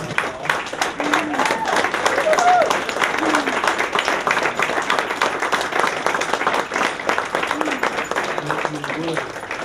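Audience applause at a college advisory board ceremony, a rapid crackle of many hands clapping at once, steady and close, with a few voices calling out faintly underneath.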